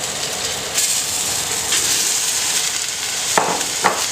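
Rabbit meat returned to a pan of browned onions fries with a steady, loud sizzling hiss throughout, broken near the end by two short scraping clatters; no talking.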